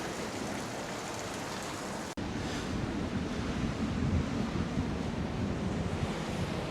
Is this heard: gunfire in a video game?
no